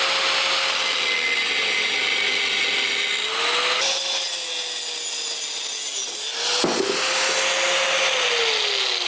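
A power saw cuts through the end of a steel 8.8 axle tube. It makes a loud, steady grinding whine that wavers slightly in pitch, with a sharp jolt near the end as the cut finishes.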